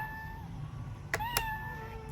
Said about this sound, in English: The cat says meow.